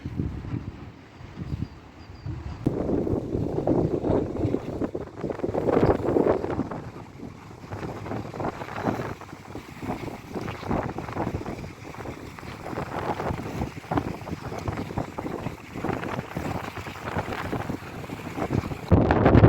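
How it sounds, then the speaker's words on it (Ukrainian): Strong wind buffets the microphone beside a rough sea on a seafront promenade near Odesa's Lanzheron beach, a steady loud roar of gusts and surf rumble running throughout with no voices. "Дуже сильний вітер сьогодні і набагато холодніше"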